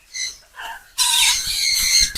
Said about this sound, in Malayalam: കിളികൾ ഇപ്പൊ ശബ്ദം കേട്ടില്ലേ?